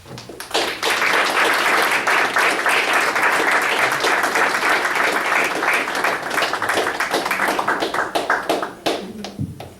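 Loud sustained clapping fills a board of education meeting room in Belleville, a dense wash of many hands that holds for several seconds before tapering off.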